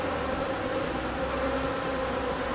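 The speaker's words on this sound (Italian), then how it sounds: "Comunque c'è un bel numero di api" Honeybees buzz steadily throughout an early-season beehive inspection, a dense close swarm hum with no talk, ending on a brief louder knock.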